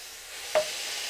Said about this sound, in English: Listen to the sizzle.